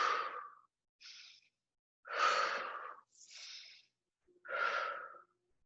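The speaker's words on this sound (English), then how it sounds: "Breathing, doing deep breaths." Slow, deep breaths during a seated self-massage session, three long airy exhales alternating with shorter inhales, close and quiet with silent pauses between.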